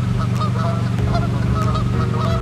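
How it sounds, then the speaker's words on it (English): Geese honking repeatedly in loud, uneven bursts close by as they come toward the listener across ice, with a steady low background rumble and no talking. "These geese are like flying towards me right now"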